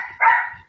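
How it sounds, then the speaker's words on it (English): A dog gives one short, sharp bark, close and fairly loud, followed by a faint fading tail. "Obviously, Dominic's dog there"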